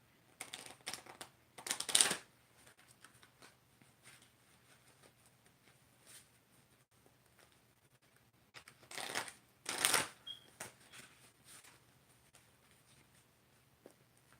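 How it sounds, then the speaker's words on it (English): Playing cards shuffled by hand, two short crisp riffle bursts about eight seconds apart, each a quick fluttering patter, close and quiet with near silence between. "I'm just shuffling"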